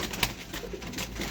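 Pigeons coo softly and close by, a brief low murmuring call over steady background noise, with a faint flutter near the start.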